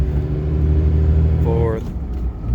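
A 2006 Ram 2500 with a 5.9L engine and six-speed manual drives on as the driver shifts gears, steady low engine rumble dipping briefly mid-shift before settling back, with no one speaking.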